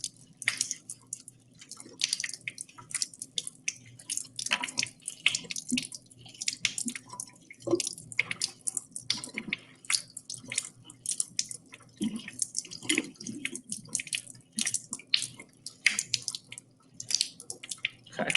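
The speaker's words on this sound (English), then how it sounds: "I'm going to try to get rid of some of the salt, if possible." Water beads rinsed with water in a container to wash off salt, giving a busy stream of close wet drips, squishes and splashes with soft rustling throughout, no talking.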